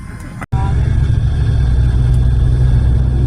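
A truck rumbles past on a road, a loud low engine drone heard close from inside a moving car, with a brief dropout near the start and steady roar after.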